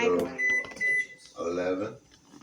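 A microwave oven timer being set in a home kitchen while boiling eggs, with a few short electronic button beeps sounding under a person's steady talking.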